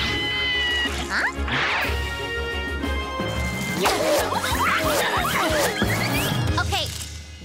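Several loud cat meows and yowls rise and fall over an animated cartoon soundscape, with thuds and crashes mixed in and voices speaking around them.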